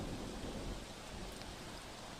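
Heavy monsoon rain falling in Vyara, Tapi, a faint, continuous hiss of dense downpour with no distinct breaks or voices.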